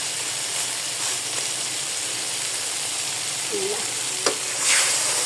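Fish fries in a pan with a steady, close sizzling hiss, a brief stir and a faint clink near the end.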